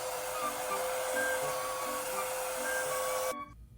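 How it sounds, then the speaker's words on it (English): A handheld hair dryer blows a steady, loud whooshing roar with a faint high whine while drying hair at the roots, then switches off abruptly near the end. "I'm going to be using this dryer"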